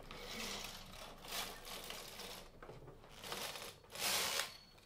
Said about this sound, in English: just hold it down with your hand and run the carriage over it